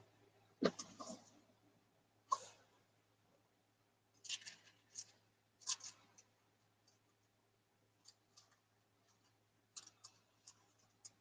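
Quiet, close snips and clicks of cutting a piece of blue material for mokume gane, coming in short, irregular bursts separated by near silence.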